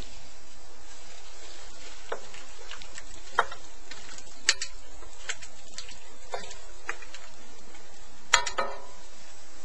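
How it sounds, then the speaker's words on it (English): Onions and mushrooms cook with tender beef for stroganoff, a faint steady low sizzle with sparse soft ticks and occasional sharper clinks scattered through. "we're going to put in the onions and the mushrooms"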